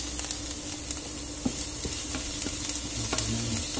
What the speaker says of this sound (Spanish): Y vamos a remover así unos minutos, digamos 2 o 3 minutos